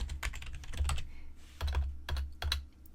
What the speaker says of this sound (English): I will start typing in Indonesia